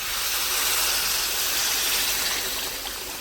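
Water pours into a sizzling, fully fried spice paste for a village-style egg curry, giving a loud, steady hiss that fills the whole moment with no voices.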